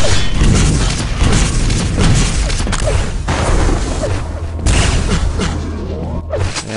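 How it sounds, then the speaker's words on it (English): Rocket explosions boom in a Quake duel, repeated dense blasts and impacts layered over constant game noise, loud and close with almost no gaps. "STV took a lot of rocket damage there, grabbing that red."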